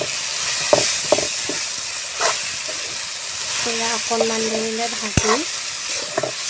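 Taro greens seasoned with ground black pepper fry in a pan, giving a steady close sizzle broken by scraping stir strokes, while a voice speaks briefly over the cooking.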